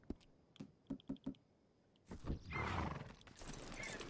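Video game horse: a run of distinct hoof clip-clops and a few light clicks, followed by a loud snorting neigh and whinny with more rustling hoof movement, fairly close.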